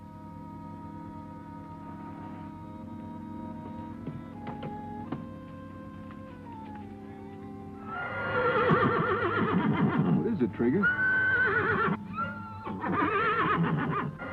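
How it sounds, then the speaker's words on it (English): Horses neighing somewhere ahead on a trail, whinnies rising loud and busy over a steady background with a man's brief line of speech just before. "Oh, horses up ahead, huh?"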